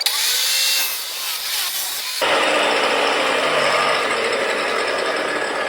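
A rock saw cuts agate into slices with a loud, continuous grinding whir that grows fuller and steadier after a couple of seconds and holds without pause.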